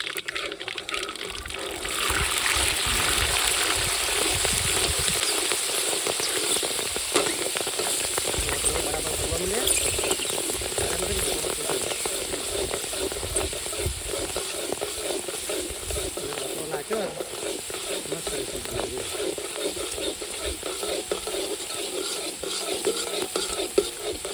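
Cumin seeds fry in hot oil in a pan for masala Maggi, a continuous close sizzle with occasional scraping stirs, running steadily throughout.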